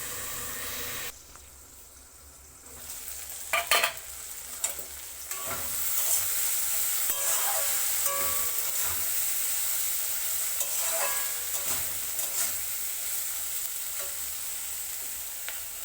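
Yardlong beans fry slowly in a pan over low heat, giving a steady close sizzle with intermittent scraping and clinking stir strokes and no voices.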